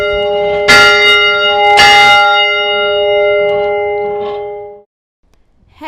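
A large bell in the tower of a historic residence hall is rung, two loud struck tolls with long resonant ringing that fades to silence.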